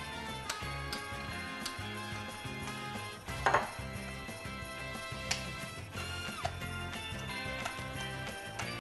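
Utensils scrape and clink against a bowl while potato salad is stirred, a steady soft mixing with a few sharper taps, over constant background music.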